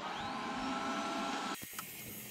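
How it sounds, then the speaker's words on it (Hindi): A LIECTROUX C30B smart Wi-Fi robot vacuum cleaner runs with a steady, close whirring hum and whine, cutting off abruptly near the end into quieter background with a couple of brief clicks. "रोबोटिक वैक्यूम क्लीनर को आप ऑन करके स्मार्ट क्लीनिंग मोड में रख सकते हैं।"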